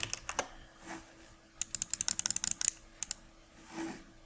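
Rapid computer keyboard keystrokes for a Ctrl+D duplicate shortcut while editing Canva templates, a few scattered clicks followed by a quick dense burst of about a dozen close, crisp taps, then two more, alone without talk.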